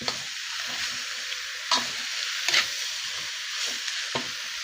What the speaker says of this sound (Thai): พัดให้เข้ากันเลยครับ กับเครื่องพัดให้หอมๆครับ